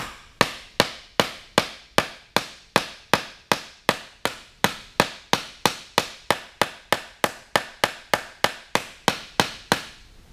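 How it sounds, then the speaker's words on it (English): Hammer blows on a sheet metal cowl recess during custom metal shaping, about thirty sharp, close, evenly spaced strikes in a steady rhythm, each ringing briefly, with no talk. "So let me hammer this one"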